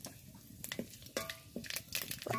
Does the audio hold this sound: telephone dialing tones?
no